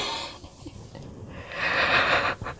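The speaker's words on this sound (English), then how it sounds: "I'm sorry for yawning." A tired person yawns alone, starting with soft breathy sounds and rising into a long, open, airy exhale near the end, close and fairly quiet with no speech.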